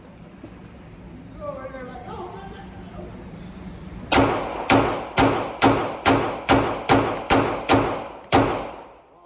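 Ten loud, sharp gunshots from a SIG P320 .45 pistol at a shooting range, fired in a steady rhythm about half a second apart, each with a short ringing decay, after a brief stretch of quieter background.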